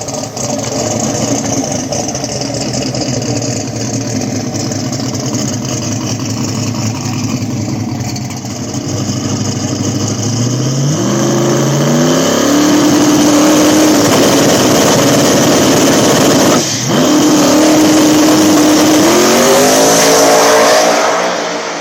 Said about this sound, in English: Turbo John with the big block boosted Mustang will get the bye run to the next round.